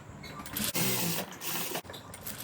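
A sewing machine stitches a boat-neck blouse in bursts of fast, close mechanical whirring, with brief pauses between runs and no talk.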